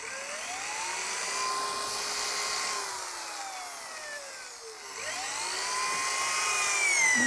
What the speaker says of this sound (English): All right, so we've drilled the hole through.